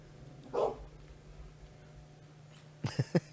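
A few dogs bark in quick succession at the end, loud and close, after one earlier muffled yip over a steady background hum.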